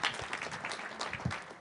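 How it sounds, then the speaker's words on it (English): A debate audience claps for the debaters at an urban debate event, a light scattered round of applause at moderate distance, uneven and fairly quiet. "I think you should all give yourself a round of applause"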